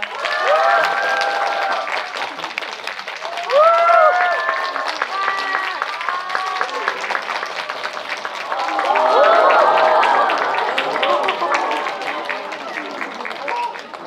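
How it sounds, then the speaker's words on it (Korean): Steady applause fills a Lotte Cinema auditorium as the director and cast of the 2023 film come out for a stage greeting, a dense crowd of clapping that lasts throughout with swells, while voices and cheers rise over it. "큰 박수로 받아주세요"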